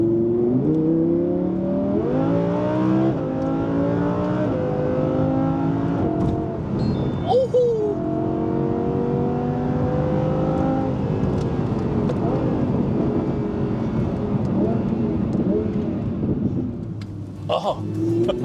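An Audi R8 4S with an Inconel exhaust runs loud and close, a steady throaty engine drone with rising and falling revs and a few sharp blips near the end.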